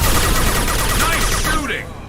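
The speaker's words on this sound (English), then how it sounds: "Firing a high-impact shot." Heavy gunfire from a shooter in Mass Effect 2, a sustained loud, close, crackling barrage that cuts off sharply before a short fading tail.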